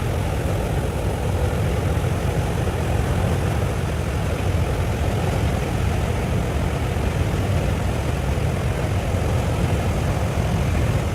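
Loud, constant broadband roar fills the cabin of a Boeing 757 flying with a door blown off, a steady rushing wind and engine drone with no voices.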